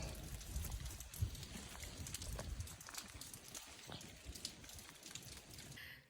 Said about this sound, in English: It's raining and it's the best time to get them started.